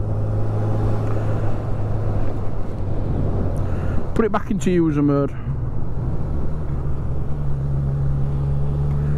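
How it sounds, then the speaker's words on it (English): A 2021 Honda CB1000R Black Edition with its stock exhaust rumbles steadily at low pitch for the whole stretch, while someone speaks briefly over it midway. "Nice little grumble there from that stock exhaust."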